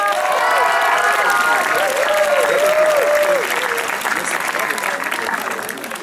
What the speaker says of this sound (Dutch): Ja, ook applaus voor deze missen.